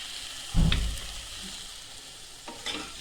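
Bitter gourd being sautéed in a pan with chopped coriander and salt: a loud stirring scrape and sizzle burst near the start fades into a steady low crackle, then another short stir near the end. No one speaks.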